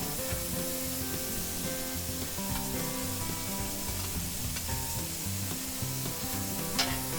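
Mushrooms frying in a hot pan give a steady, close sizzle that runs unbroken throughout, with light stirring and spattering on top and no talking.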